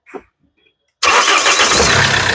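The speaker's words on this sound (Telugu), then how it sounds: "ఒకసారి మళ్ళీ ఇంజిన్ స్టార్ట్ చేసి చూపిస్తున్నాను" After a brief click and a pause, the diesel engine of a 2014 Mahindra XUV500 SUV cranks and catches, then runs at a loud, steady rumble close by.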